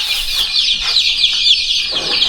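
Chickens clucking in a continuous busy chorus of overlapping high, scratchy calls, close by and fairly loud, with no talking.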